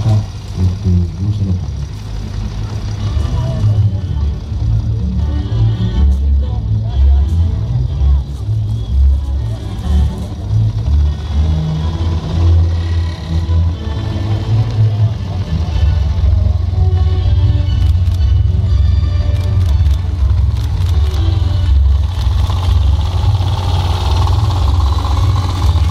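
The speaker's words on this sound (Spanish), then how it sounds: "tiene un motor monocilíndrico con válvulas laterales" A vintage motor scooter with a single-cylinder side-valve engine runs steadily for the whole stretch, a low rumbling drone at the Autoclasica 2012 classic vehicle show, while people talk over it.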